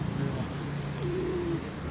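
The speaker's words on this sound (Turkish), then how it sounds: "Gördüğünüz gibi arkadaşlar bakın burada da kuşlar var" Pigeons or doves cooing in an outdoor spot, a few soft low hooting calls drawn out against a steady background hum, fairly close but not loud.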